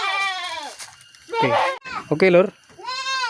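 Etawa goats bleat loudly nearby, several wavering calls one after another, with someone briefly speaking between them.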